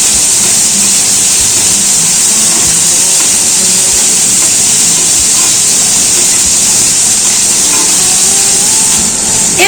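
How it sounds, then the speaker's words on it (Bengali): Small diced potatoes dropped into hot oil with tempered spices, sizzling loudly and steadily with a constant bright hiss close to the pan. "এবার দিয়ে দিচ্ছি ছোট ছোট করে টুকরো করা আলুগুলো। নেড়ে চেড়ে নিচ্ছি।"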